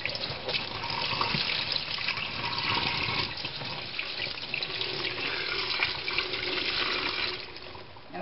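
Raw chicken washed under a running kitchen tap, a steady loud rush of water splashing into the sink throughout, alone without talk.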